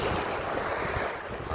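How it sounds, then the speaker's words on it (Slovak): Sea waves at Laiya beach in the Philippines, a steady broad wash of surf mixed with wind buffeting the microphone, continuous and fairly loud with no voices. "má dneska trošku vlny, nie sú to nejaké obrovské vlny, ale pozrite sa."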